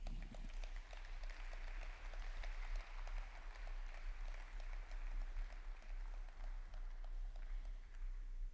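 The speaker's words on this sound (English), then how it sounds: "give them a round of applause" A conference audience gives steady applause as a panel of highway-authority speakers walks onto the stage. The clapping stays faint and even throughout, with many hands at moderate distance.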